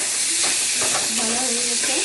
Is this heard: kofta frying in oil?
yes